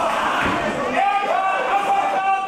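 Raucous wrestling crowd at a GWF tag team title match in Festsaal Kreuzberg, a dense roar of shouting and chanting voices filling the hall, loud and continuous, with rising sung chant tones.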